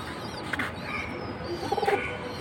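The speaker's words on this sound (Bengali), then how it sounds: "মানে ওনাদের বাড়ির কবুতর।" Domestic high-flying pigeons cooing at home, soft low murmuring coos heard close in short bursts over a steady background hiss.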